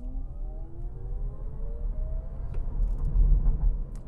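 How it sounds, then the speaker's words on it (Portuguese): A 2023 Chevrolet Bolt EUV electric car accelerates at full throttle, its motor whine rising steadily in pitch over low road rumble and tire noise, heard from inside the cabin. "Cara, aceleração de carro elétrico é uma coisa absurda, porque toda a potência vem de uma vez."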